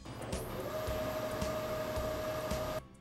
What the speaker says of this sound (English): Start the spindle first by selecting M3 and press Cycle Start.